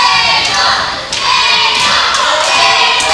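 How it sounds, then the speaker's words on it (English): A wrestling crowd at a women's match roars and cheers loudly and close, with shouts swelling in bursts and a few thuds rising above the din. "I can hear who the crowd wants"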